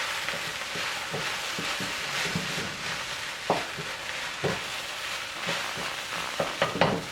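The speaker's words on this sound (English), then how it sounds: "You want to make sure you're constantly stirring it or flipping it in the pan to make sure it doesn't burn too much." Rice fries in a hot pan with a continuous sizzle while a wooden spoon stirs and scrapes it, giving intermittent soft knocks that grow busier toward the end.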